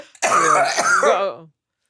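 A single rough, throaty cough close to the microphone, lasting just over a second before silence.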